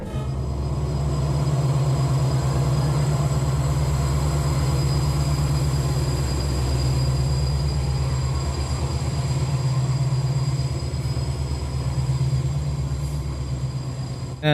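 The Solapur to Dharwad Express rumbles steadily through Almatti station, a loud, continuous low drone of wheels and coaches with faint squeal tones over the top, sustained for the whole stretch without speech.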